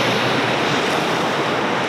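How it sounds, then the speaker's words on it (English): A small waterfall and river in Tasmania rush continuously, a loud, dense broadband roar of falling and flowing water heard close up and unbroken, with no voices. "waterfall, this little river"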